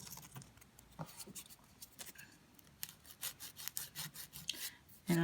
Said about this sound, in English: and I start filing